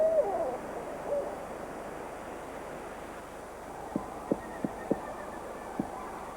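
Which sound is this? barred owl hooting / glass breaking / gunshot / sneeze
barred owl hooting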